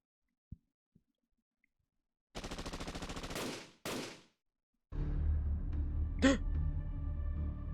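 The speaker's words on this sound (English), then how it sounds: "Senpai, those were gunshots, but who's shooting inside of Chaldea?" Gunshots ring out inside Chaldea in the video game Fate/Grand Order: a couple of faint taps, then a sustained rattling burst of rapid automatic fire, a second short burst, and a rumbling, noisy aftermath.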